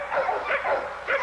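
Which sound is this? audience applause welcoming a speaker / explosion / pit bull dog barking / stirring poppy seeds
pit bull dog barking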